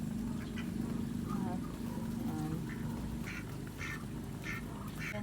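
Ducks quack repeatedly at close range on a farm, with short bursts of calls over steady background noise while a person talks nearby.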